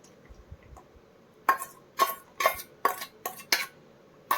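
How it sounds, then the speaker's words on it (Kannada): A spoon scrapes and clinks against a pan as homemade ice cream mixture with almond drink mix is stirred over a low flame, about seven sharp knocks in an uneven rhythm, close and moderately loud. "ಲೋ ಫ್ಲೇಮಲ್ಲೇ ಇಟ್ಟು ಚೆನ್ನಾಗಿ ಈ ಥರ ತಿರುಗಿಸ್ಕೊಳ್ತಾ ಇರಿ, ಕೈ ಆಡಿಸ್ತಾ."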